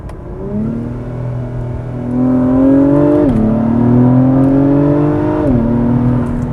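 A 2021 Acura TLX Type S turbo engine revs up hard as the car accelerates, pitch climbing steadily, dropping briefly at two gear shifts, then rising again, loud and close with no talking.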